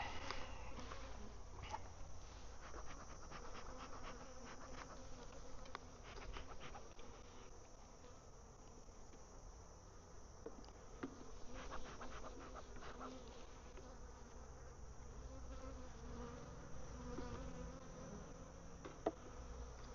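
Honey bees buzzing steadily around a backyard hive during hive work, a dense, continuous low drone of many insects that stays moderately quiet and even throughout, with no talking.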